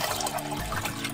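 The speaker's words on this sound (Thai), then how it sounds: "เทน้ำเชื่อมที่เฮามักตัวนี้พี่น้องลงไปเลยเนาะ" Homemade woodruff syrup pours into a container, a short continuous liquid gush with no talk over it.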